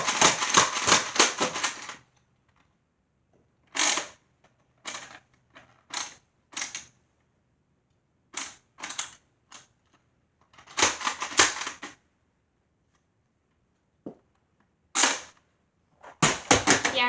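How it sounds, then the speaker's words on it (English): A Nerf blaster fires foam darts in sharp, close pops, some in quick rapid bursts and others as single shots separated by short pauses. "Okay. 3 new darts. These better work. Yeah. I'm just going to fire it from this perspective."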